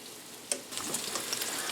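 Homemade meatballs browning in olive oil in a pan, a steady soft sizzle with a brief louder crackle near the start, then continuous frying hiss.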